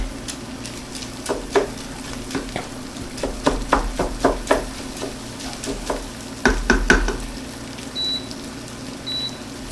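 Split peas and ham are stirred in a pot on the stove, giving a run of irregular scraping and clattering strokes with a soft sizzle underneath, close and moderately loud, with a couple of faint beeps near the end.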